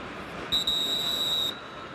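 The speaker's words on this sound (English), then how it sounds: "Now a whistle." A referee's whistle sounds once at a CFL football game between the BC Lions and Winnipeg Blue Bombers, a shrill, steady one-second blast over crowd murmur.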